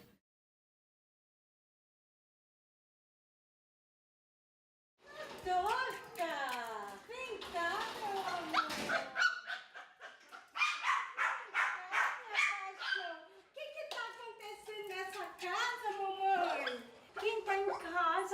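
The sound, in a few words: dog greeting its owner coming home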